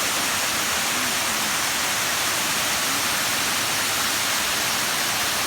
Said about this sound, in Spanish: You can see the beautiful waterfall here.